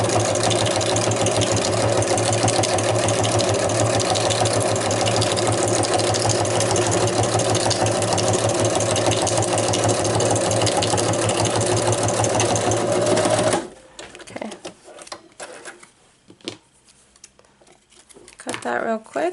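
Sewing machine stitching acetate rosette pieces, a loud, steady close-up whir that runs continuously for about thirteen seconds, then stops abruptly and leaves quieter handling noise.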